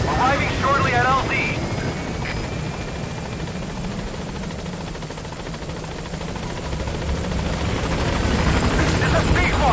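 Support helicopter Pequod in Metal Gear Solid V arriving at a landing zone, a steady near rotor thump and engine drone running through the whole stretch, with a radio voice at the start.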